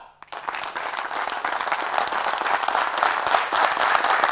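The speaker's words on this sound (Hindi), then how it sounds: "आप तालियां बजाना शुरू करेंगे, और जैसे ही ऊपर जाएंगे हाथ वैसे तालियां बढ़नी चाहिए" An audience at a motivational talk claps together, starting suddenly and swelling steadily louder into dense, continuous applause.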